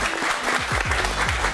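Spectators at a Paris versus Marseille fight event applaud after a submission win, a brief loud burst of clapping with some low thumps and crowd noise mixed in.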